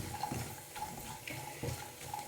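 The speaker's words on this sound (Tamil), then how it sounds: "முந்திரியும் நல்லா பொன்னிறமாக வறுபட்டுருச்சு" Cashews and raisins frying in ghee in a pan for rava laddu give off a steady, soft sizzle with light crackles, fairly quiet and with no one talking.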